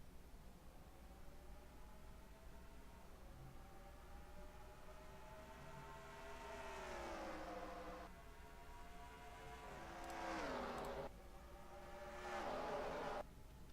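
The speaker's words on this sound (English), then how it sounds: "They roar down the back straightaway side by side for the race lead." ARCA race cars roaring around Rockingham in the NR2003 racing game, a steady engine drone rising in pitch as cars sweep closer, with three louder passes near the end, faint and distant overall.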